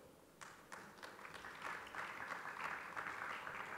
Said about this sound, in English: Please give an applause for them